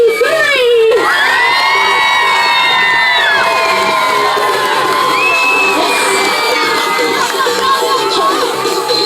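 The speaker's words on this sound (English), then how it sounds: "So at the count of 3, let her hear you scream." A large crowd of children screams and shrieks loudly and continuously at an outdoor dog agility show in Dubois, Pennsylvania, with high, overlapping cheers that sustain at full volume for several seconds.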